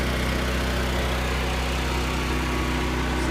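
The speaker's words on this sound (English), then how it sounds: "Do a little quick video of my generator sound box." A propane generator runs inside an enclosed sound box fitted with an exhaust tube and fans, making a steady, loud, even engine hum with a constant low drone.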